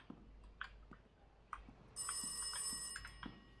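An old-fashioned telephone bell rings in the horror game Rise of Insanity, a bright metallic trill that starts partway through and continues steadily over faint clicks and ambient game sounds.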